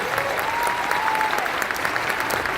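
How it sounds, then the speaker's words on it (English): A short burst of strong crowd applause during a Magic Johnson business speech, even and close, with a faint voice heard briefly underneath. "We should clap for that, see?"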